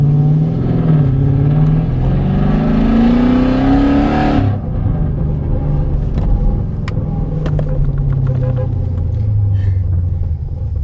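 Car driving down a road with a steady engine rumble that rises in pitch as it accelerates over the first four seconds, then settles into a lower cruising drone. The sound is loud and close, and no one speaks.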